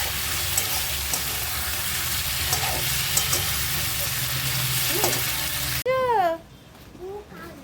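Capsicum and tomato sautéing in a pan, with a dense steady sizzle and stirring for most of the clip, followed by a brief burst of voices at the end.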